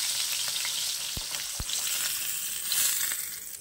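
Katla fish pieces coated in chili powder fry in hot oil, giving a continuous close sizzle and bubbling with two sharp knocks partway through, no voices.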